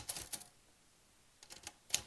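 A typewriter gives a few isolated sharp mechanical clacks, two near the start and a small cluster near the end, separated by a quiet gap, close and fairly faint.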